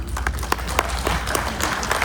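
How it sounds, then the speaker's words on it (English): Scattered clapping from an audience at a KISS fan expo Q&A with Paul Stanley, a modest steady patter of hands in a large room, continuous and fairly soft. "That deserves applause."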